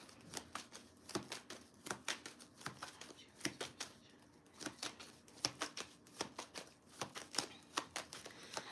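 Tarot cards being shuffled and pulled from a deck, a rapid run of crisp riffling snaps and soft slides with brief pauses between bursts, close and fairly quiet, with no talking over it.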